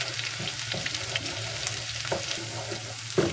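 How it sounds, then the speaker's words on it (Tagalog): Tomato paste sauce is stirred in a hot pan for buttered garlic shrimp: a continuous sizzle with soft, periodic scraping strokes of a utensil, close and fairly quiet, no talking. "Haluin lang natin."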